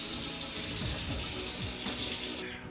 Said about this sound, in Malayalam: ടാപ്പ് തുറക്കുമ്പോൾ ചൂടുവെള്ളം,